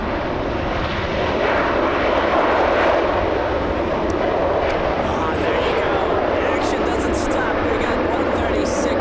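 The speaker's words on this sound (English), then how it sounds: "Stunning touchdown by the A340-300" An Airbus A340-300 roars loudly after touchdown at Los Angeles International Airport, its engine thunder building and rumbling steadily while voices talk over it.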